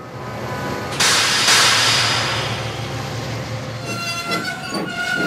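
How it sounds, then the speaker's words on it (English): A diesel engine's brakes sound as a train slows on the rails, with a sudden bright screech and hiss over steady rumbling, then squealing tones and metallic clanks toward the end. "Whereas Mavis's brakes sound like this."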